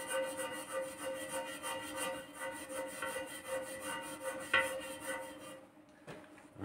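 An oil pan is scrubbed clean with a repeated rubbing, rasping stroke in a quick regular rhythm, fairly faint and close, before the scrubbing stops near the end.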